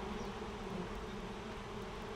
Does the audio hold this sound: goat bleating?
no